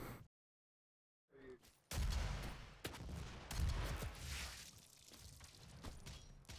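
Rapid gunfire from the Doom multiplayer beta arena shooter, loud, dense bursts and shots layered with in-game blasts, after a brief silent gap at the start.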